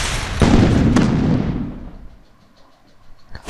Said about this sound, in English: I am using grenade again.